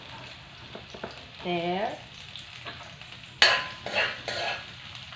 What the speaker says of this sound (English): Now I am going to put our garlic